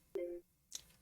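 A Mycroft voice assistant answers its wake phrase with a short electronic tone, a steady two-note chime lasting about a quarter second, followed by a faint, brief higher blip, in an otherwise quiet room.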